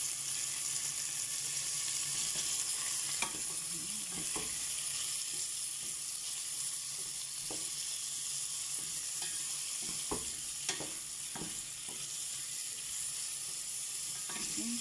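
Chicken sizzles steadily in a pan with onion and garlic for a simple molokheyah dish, a continuous close frying hiss broken by occasional stirring clinks and scrapes.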